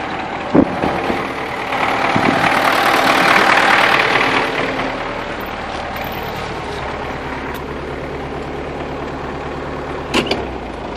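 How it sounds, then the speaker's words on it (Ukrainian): An MTZ-82 tractor engine idles steadily with a low rumbling chug, close by and continuous, rising slightly in the middle before settling back. "А так, в принципі, трактор працює нормально"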